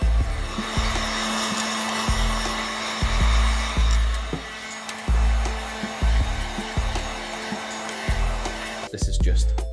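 Epoxy primer sprayed onto welded car panels in an alleyway paint booth produces a loud, continuous hiss close by, broken by repeated short clunks and pauses.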